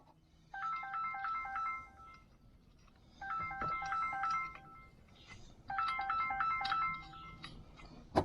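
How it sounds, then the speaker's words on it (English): A phone ringtone plays in three separate bursts of quick repeated electronic tones with short pauses between them, faint over a quiet workshop room, and a sharp knock lands at the end. "Phone's ringing, but I'm not answering."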